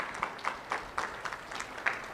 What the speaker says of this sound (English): can we have like one round of applause for all of you for being here?